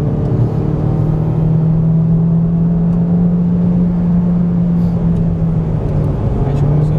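Honda Civic Type R (2016) accelerating on the Nürburgring Nordschleife, a loud steady engine tone rising slightly as it pulls, heard from onboard with a low rumble underneath.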